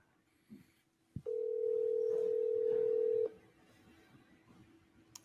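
A phone call goes out to Dad's cell with a single steady ringback tone lasting about two seconds, moderately loud and close, set between a click and a quiet background.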